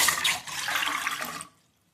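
A mug of water pours into a pan on a gas stove, a short splashing gush lasting under two seconds before stopping abruptly into silence.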